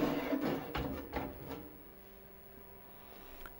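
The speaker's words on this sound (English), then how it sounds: "So let's open her up to see what we have inside." Metal case of an old IBM PC XT computer being opened, with a few scraping, clunking handling sounds in the first second and a half that then fade to quiet room noise.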